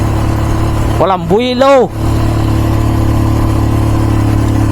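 A motor vehicle engine labours uphill on a zigzag mountain road toward Baler, a steady loud drone running throughout while someone speaks briefly over it.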